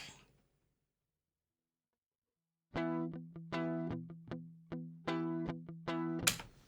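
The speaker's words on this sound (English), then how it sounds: "Nice clean DI guitar that we recorded." Silence, then a clean, unprocessed electric guitar plays a series of plucked notes and short chord stabs, close and dry.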